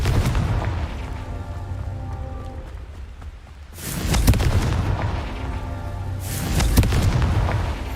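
In the Hogwarts Legacy video game, the Confringo blasting spell fires in loud, close booms. Two heavy bursts stand out over continuous background game sound.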